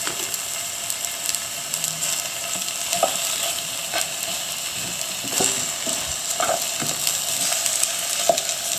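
Onions sizzle inside a GSI 10-inch hard anodized Dutch oven, a steady close crackling hiss with scattered pops and light scraping, no talking.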